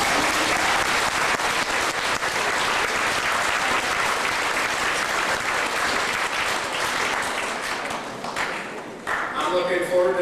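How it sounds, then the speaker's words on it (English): An audience gives students a round of applause at a community event in Prince Albert, Saskatchewan, steady loud clapping that fades toward the end as a voice begins speaking. "So let's give those students a round of applause."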